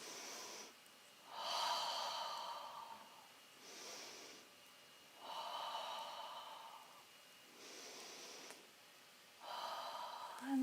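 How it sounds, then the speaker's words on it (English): Slow, deep breaths during a yoga session, heard alone and close: three long, airy exhales about three seconds apart, each with a softer inhale between, quiet and unhurried. "Breath is super important. So in total, 3 breaths."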